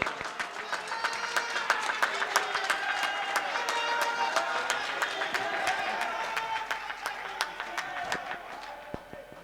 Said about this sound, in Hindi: आप लोग जरा और जोर तालियों से बजाइए